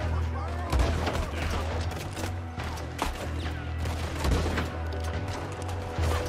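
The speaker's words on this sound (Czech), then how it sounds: "Tady střílí jeden." Gunfire in the Red Dead Redemption 2 video game, a rapid series of sharp shots and booms crackling over a continuous low background rumble, with some talk faintly underneath.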